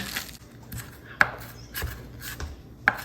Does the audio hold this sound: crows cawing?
no